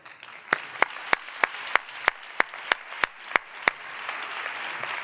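Applause from an audience at a carnival character presentation, a broad wash of clapping with a series of sharp, evenly spaced louder claps standing out near the microphone.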